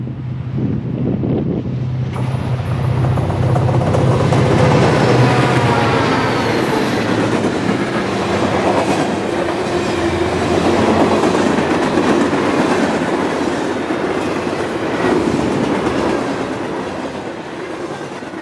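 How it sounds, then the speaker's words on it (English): A westbound Montana Rail Link coal train rolls steadily past in Columbus, Montana, a loud continuous rumble of wagons with rhythmic wheel clatter and wind buffeting the microphone throughout. "First up is this westbound coal train."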